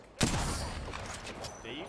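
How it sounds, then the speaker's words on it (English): Gunfire in the battle-royale shooter Apex Legends: a sharp shot opens a rapid fusillade of distant-sounding bursts, continuing as a rattling stream of fire throughout. "They're shooting at me. I'm getting shot at"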